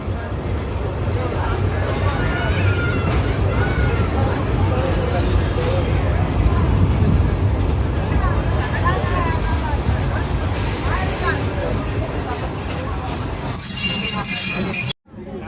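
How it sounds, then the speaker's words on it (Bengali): Ovijatri commuter train pulling into platform 1 at Gopalganj railway station, wheels squealing and carriages rumbling loudly and steadily, with faint crowd murmur, cutting off abruptly near the end. "আমাদের ট্রেনটি এখন প্রায় 55 মিনিট বিলম্বে তার যাত্রাবিরতির শেষ স্টেশন গোপালগঞ্জ রেল স্টেশনের 1 নম্বর প্ল্যাটফর্মে প্রবেশ করলো।"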